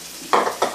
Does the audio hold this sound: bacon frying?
yes